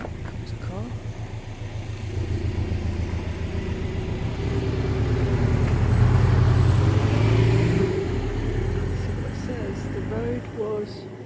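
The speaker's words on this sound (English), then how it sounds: "Oh, comes a car." A car approaches and passes along a village street in Ashwell, Hertfordshire, its mid-pitched engine swelling to a peak around the middle and fading away, with faint voices and outdoor ambience underneath.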